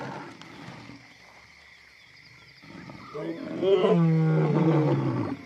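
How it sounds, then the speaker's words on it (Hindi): A wild leopard gives a deep, rasping roar that swells up after a quiet stretch and continues loud and near for several seconds, with a narrator's voice over it. "वो मायूस होकर फिर दहाड़ने लगता है।"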